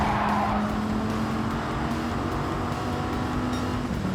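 Race car engine from a Lightning McQueen racing video game, a steady sustained drone with a held whining tone and some tire noise, loud and continuous throughout with no talking.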